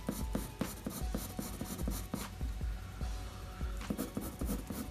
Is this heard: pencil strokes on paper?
yes